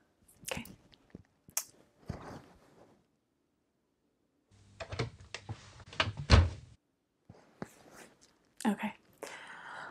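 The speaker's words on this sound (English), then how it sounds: "I'm just gonna close the door and I'll be right back." A classroom door is closed in a soft-spoken teacher roleplay, giving a few close thumps and handling clatters. A quiet voice speaks between them, with silent gaps.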